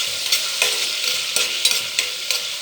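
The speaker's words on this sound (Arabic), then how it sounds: "يتشوحوا كده ويتحمروا حلو، نروح نازلين بعصير الطماطم" Onions sauté in hot oil for Egyptian koshari, a steady close sizzle with soft periodic scrapes and stirs of a spoon through the pan, no voices over it.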